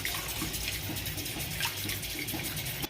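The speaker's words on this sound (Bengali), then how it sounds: "পুরো জলে ধুয়ে নিচ্ছি আমি পেট টেটগুলো একটু পরিষ্কার করে ধুয়ে দিচ্ছি" Tap water runs steadily and close while prawns are rinsed and cleaned under it, a continuous splashing flow with no voices.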